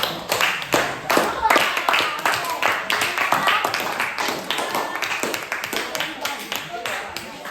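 A classroom group clapping hands for a presenting team, rhythmic, fairly close claps in a quick repeated beat, with voices talking alongside.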